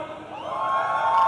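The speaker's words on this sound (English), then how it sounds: "we've got a lot of cheers right there for the side of Team Alpha" Esports LAN crowd at a tournament final cheering and whooping for one team, a rising burst of voices filling the hall, moderately loud and continuous.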